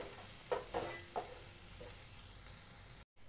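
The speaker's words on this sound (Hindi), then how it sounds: "ये मसाला जल्दी भून जाता है, 2-3 मिनट में" Masala frying in a pan for a peas and paneer dish gives a soft, low sizzle with a few light stirring scrapes, briefly cutting to silence near the end.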